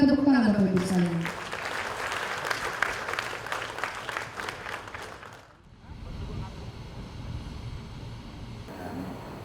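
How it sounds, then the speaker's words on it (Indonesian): Applause from an audience at the inauguration of the Ulubelu Unit 3 and Lahendong Unit 5 and 6 geothermal power plants, loud and rippling for several seconds before fading into a low ambient hum, with a voice briefly audible at the start. "Kita berikan tepuk tangan"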